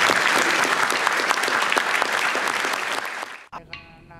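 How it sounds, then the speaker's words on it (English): An audience at a community film screening in Healesville gives a big round of applause for Yarra Ranges Council, dense clapping that fades out after about three and a half seconds, followed by a faint voice. "a big round of applause for Yarra Rangers Council"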